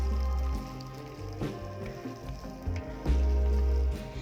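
Ginger and garlic sauté in hot oil for a Chettinad country chicken curry, crackling and sizzling softly with louder bursts of spatter as the pan is stirred.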